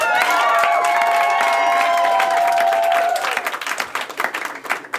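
Dense, steady applause from a seated stand-up comedy audience fills the room at full strength for about three seconds, then thins into scattered, fading claps.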